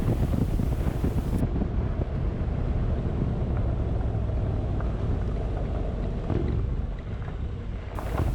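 Honda NC750X motorcycle riding along a corrugated dirt road, a steady loud rumble of engine and tyres buried under heavy wind buffeting on the microphone, continuous throughout with no talking.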